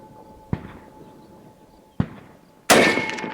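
A Russian SKS rifle fires three sharp, loud shots at an outdoor range, spaced irregularly; the last blast is the nearest and rings out longest.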